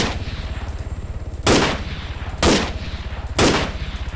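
Three loud single gunshots in the video game Arma 3 ring out about a second apart, each sharp with a short decay, over a steady droning engine-like hum.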